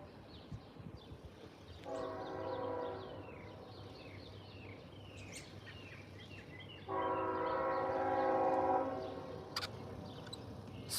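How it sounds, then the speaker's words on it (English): A CSX freight train on a quiet morning in Ashland, Virginia sounds its horn in two long blasts, the second louder and closer, over a low steady rumble with faint insect chirps around. "It's probably another manifest here for the CSX freight trains here."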